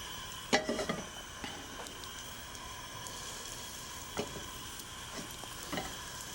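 Tomato steaks sauté in hot oil in a pan, a steady soft sizzle running throughout with a few brief clinks and stirring knocks, moderately quiet and close, with no talking.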